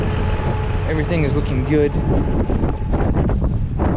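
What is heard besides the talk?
wind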